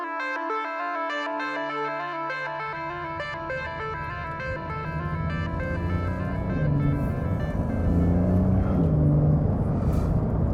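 A bright yellow Porsche 992 Carrera S pulling away, its engine note rising from a low rumble as the car gets going, heard under fading music.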